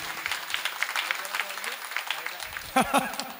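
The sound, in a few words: audience clapping at a kirtan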